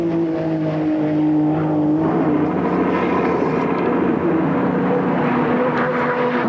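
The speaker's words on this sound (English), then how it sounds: "You can really hear the way the car puts its power to the road." Group A touring car at full power on the Mount Panorama circuit at Bathurst during the 1991 Bathurst 1000 top ten shootout, its engine a loud sustained roar that holds steady and rises slightly as it passes.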